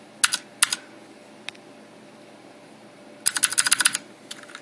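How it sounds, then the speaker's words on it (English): Typing on a backlit Razer BlackWidow Ultimate mechanical keyboard with clicky Cherry Blue switches: two isolated sharp clicks, a lone tap, then a quick burst of rapid keystrokes and a few last taps, close and crisp. "This keyboard is obviously a mechanical keyboard that is backlighted. It uses cherry blue keys, which are the real clicky,"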